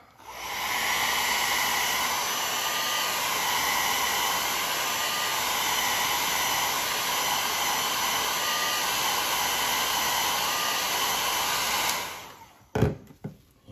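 A heat gun blows hot air onto a leather sheath during waterproofing, a loud steady hiss and whir that runs without a break, then cuts off with a few clunks.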